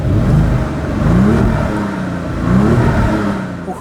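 A Volkswagen Golf GTI concept car with a strong petrol smell revs in neutral nearby, its loud engine rising and falling in two or three surging pulls with no talking.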